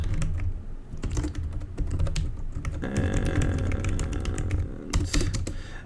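Someone types code for a Vulkan renderer on a computer keyboard, producing rapid, close, irregular clattering keystrokes in bursts that run nearly the whole time, with a denser flurry in the middle.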